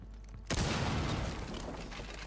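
A breach charge in Rainbow Six Siege blows a hole in a wall with a sudden loud blast after a quiet moment, followed by a sustained rumble of debris and crumbling.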